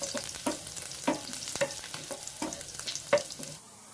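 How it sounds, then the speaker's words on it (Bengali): Minced garlic frying gently in oil over a low flame, a soft steady sizzle broken by a handful of sharp spatula scrapes and stirring knocks spaced about half a second apart. "রসুনটা হালকা করে একটু ভেজে নেব।"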